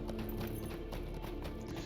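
A horse's hooves clip-clop in a fast, steady rhythm in the Lord of the Rings Online video game, loud and close, with no other sounds.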